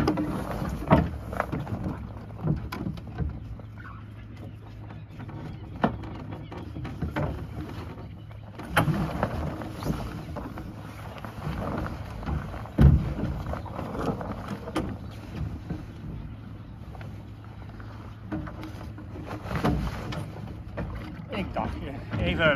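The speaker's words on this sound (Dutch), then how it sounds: "Dus het laatste stukje moet het toch roeien." Rhythmic splashing and creaking of oars rowing an Ilur sailing boat repeat under steady wind noise, with a voice talking quietly at times.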